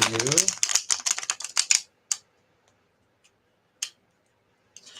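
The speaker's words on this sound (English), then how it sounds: "I just want to shuffle this a few more times" A rapid run of crisp flicking riffles from a new deck of cards at a psychic reading, then a few isolated sharp snaps spaced out over quieter stretches.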